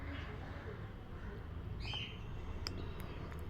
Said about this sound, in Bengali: কলতলাটায় জল ভরতে ভরতে একটু কোকিলের ডাক শুনছি।